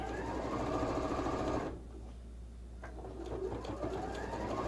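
A sewing machine stitches quilt blocks together, whirring steadily and close for almost two seconds, then stopping and falling to a low, quieter hum.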